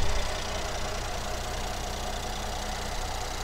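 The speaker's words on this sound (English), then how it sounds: "This vehicle specifically has a very smooth idle." A 2017 Mercedes-Benz GLS 450 4Matic with a V6 engine idles smoothly, giving a steady, even hum that holds at one level throughout, with no voices.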